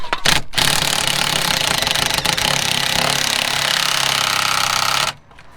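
A power tool hammers a bolt into the rear suspension of a Vauxhall Astra H during a spring replacement, giving one loud, continuous rattling burst of about five seconds that cuts off sharply.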